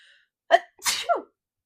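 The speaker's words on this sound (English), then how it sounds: "I haven't sneezed in a long time" A single close sneeze: a quick sharp burst, a brief pause, then a longer explosive blast that trails off, followed by quiet.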